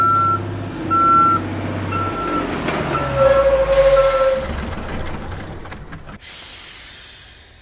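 A bus pulls in with a rumbling engine and hissing brakes, while steady reversing-style beeps sound repeatedly over the noise, fairly close.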